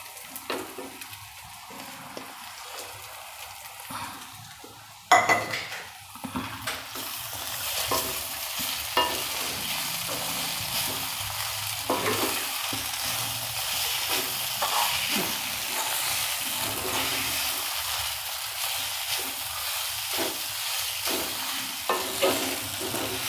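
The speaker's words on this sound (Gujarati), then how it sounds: "હવે એમાં આપણે પૌવા નાખી દઈશું પલાળેલા" Soaked poha stirred into cooked peas in a pan: a loud clatter, then sustained sizzling with repeated scraping stir strokes, close and continuous.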